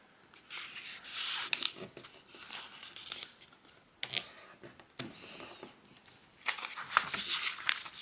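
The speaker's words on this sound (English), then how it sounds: "We are going to start on the blank side and fold it in half diagonally." A square sheet of origami paper is folded in half diagonally up close, giving soft crinkling, rubbing and creasing swipes in irregular bursts with quiet gaps between them.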